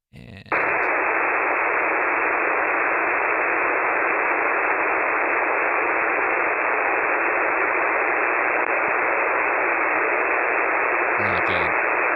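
Static on a 40-meter HF ham radio: a sudden, loud, steady hiss of band-limited noise that runs unbroken after a brief start, with a short blip near the end.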